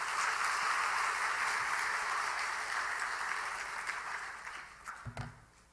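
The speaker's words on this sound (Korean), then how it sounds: "우리 한번 박수를 한번 보내세요." Sustained applause from a church congregation during a Sunday service at Haeundae Maeil Church fills the room, dense and steady before thinning out into a few scattered claps near the end.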